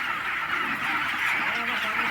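A dense, continuous din of thousands of chickens on a 10,000-bird poultry farm in Andhra Pradesh clucking and calling together, loud and close, with no pauses.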